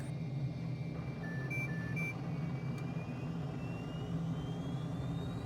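An F-35 fighter jet in Microsoft Flight Simulator, flying over the Dnieper River near Kyiv, holds a steady, droning engine roar with a faint high whine and a few soft electronic beeps, with no talking.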